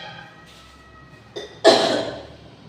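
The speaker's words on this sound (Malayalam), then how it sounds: "കൂടുതൽ സംസാരിക്കുമ്പോൾ ചുമ വരിക" Someone with a cold gives a short breathy catch followed by one loud, harsh cough close by, which then fades out.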